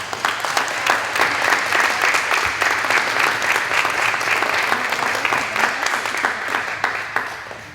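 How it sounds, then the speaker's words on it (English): An audience at an elementary school National Elementary Honor Society induction ceremony claps steadily, an even, full round of applause that tapers off at the end. "Let's give them all a big round of applause."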